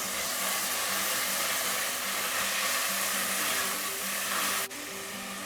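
Garlic ginger paste frying with golden-browned onions for stuffed tinda, a steady, bright sizzle throughout with a faint rhythmic stirring pulse, ending with a slight drop in intensity.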